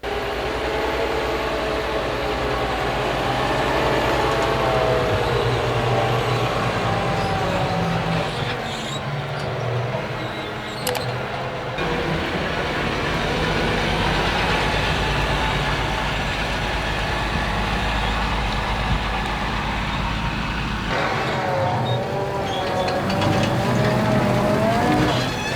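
A Fendt 832 tractor with an 8.0-litre Agco Power six-cylinder engine, 320 to 340 horsepower, rumbles steadily and loudly without a break, a dense continuous drone with no talk over it.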